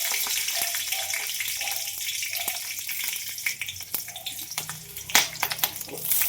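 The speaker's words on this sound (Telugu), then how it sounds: "ఆ బాండ్లీలోకి కొద్దిగా అయితే ఆయిల్ వేసుకొని పచ్చిమిరపకాయలు అయితే వేసేసుకున్నామండి." Green chillies frying in a little oil in a village-style iron kadai, a loud, continuous hissing sizzle with scattered crackles and spits running the whole time and no speech.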